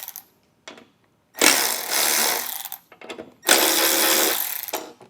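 Ratcheting or power-driven loosening of the two speaker pod bracket bolts on a Ford Bronco, in two sustained buzzing bursts of about a second each, separated by short clicks and quiet.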